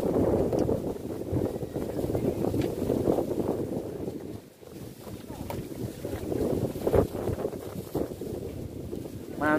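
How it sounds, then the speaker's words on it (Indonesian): Strong gusting wind buffets outdoors during fishing for milkfish and tilapia, a loud continuous roar with brief lulls and surges, with faint voices underneath. "angin kencang banget ini hari ini"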